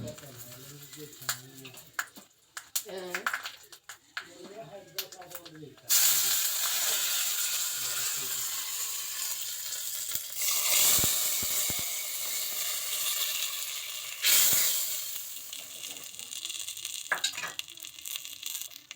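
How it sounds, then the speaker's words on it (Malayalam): Mustard seeds spluttering in hot oil for a sambar tempering with dried red chillies and curry leaves. After a few seconds of a voice, a loud, steady hiss and crackle takes over and surges again near the end. "പിന്നെ ഇതാ സാമ്പാറിനെ കടുക് പൊട്ടിക്കാനായിട്ട് പോവാണ് കേട്ടോ."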